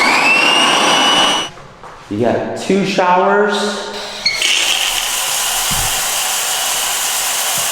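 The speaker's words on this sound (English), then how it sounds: "got a hand dryer" A hand dryer in a park restroom at Roper Lake State Park blows with a loud, steady roar for over a second. It cuts out, then starts again and runs continuously, with someone talking over it.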